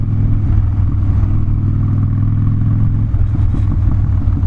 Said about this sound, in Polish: Widać, że bardzo z dołu bierze ten motocykl